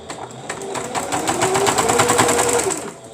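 A sewing machine stitches in a fast, even mechanical rattle, running continuously at close range and growing slightly louder midway, with no speech over it.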